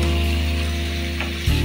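Cubed paneer sizzles in a pan for a dhaba-style paneer lababdar, a steady close frying hiss with a low hum underneath and a brief stir or clatter near the end.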